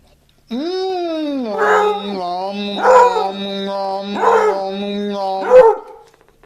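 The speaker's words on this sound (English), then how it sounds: "that was my little dog Molly, my beagle, my loving beagle, my best friend" A beagle barks and howls close by in a few drawn-out, tonal calls that rise and fall across several seconds, loud and alone with no talking over it.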